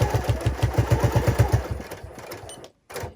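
A sewing machine stitching in the ditch on a quilt, a steady rapid run of mechanical needle thumps for about two seconds, then slowing and stopping, followed by a brief pause and a short burst of handling noise.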